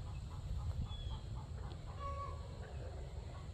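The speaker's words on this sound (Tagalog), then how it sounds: "kung na naririnig nyo yung manok kasi ng itlog na yan kaya putak siya" A hen clucks in short repeated bursts after laying an egg, amid farmyard background noise, with other birds faintly calling nearby.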